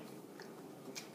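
A crunchy cookie shot glass is bitten, giving a brief, faint crunch over quiet room background with no talking.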